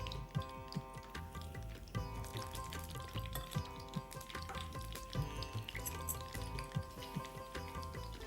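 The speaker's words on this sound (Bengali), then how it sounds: "উইংসগুলো ছাড়ার আগে ভালো করে ব্যাটারগুলোকে মাখিয়ে মাখিয়ে ছাড়তে হবে।" Battered chicken wings, skin on, frying in hot oil with a steady, crackling sizzle and scattered sharp pops, close and continuous with no talking over it.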